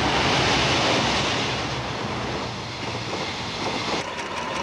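A passenger train with luxurious sleeping rooms runs on at night in a Gachapin and Mukku children's show about trains, heard as a broad, steady rushing rumble that eases slightly midway, with faint clicks near the end.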